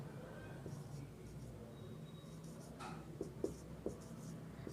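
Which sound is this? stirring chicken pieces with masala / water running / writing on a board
writing on a board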